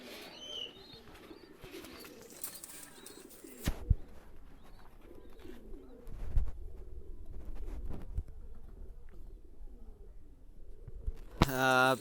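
Pakistani high-flyer pigeons coo softly at close range amid light rustling and a few wing flutters, while someone talks intermittently.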